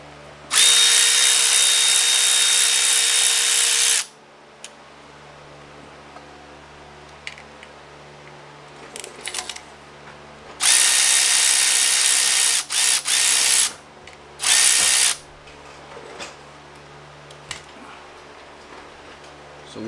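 A power tool spins off bracket bolts while replacing factory bolts during a K-series engine timing chain job, loud close whirring bursts of several seconds each separated by quieter handling clatter and brief shorter buzzes.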